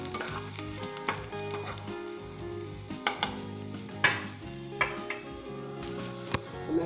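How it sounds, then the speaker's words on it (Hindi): Spices are stirred into white brinjal (safed baingan) masala frying in a pan: a constant loud sizzle with scraping stirs and a few sharp clinks of the spoon against the pan, and no voices. "इसके अंदर ये सारे स्पाइस डालना है। दो सेकंड के लिए आप मिक्स कर लें इसे।"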